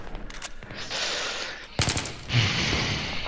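Bursts of M16 rifle fire in Battlefield 3 multiplayer, a couple of short volleys separated by brief pauses over a steady game-ambience bed, fairly loud and close.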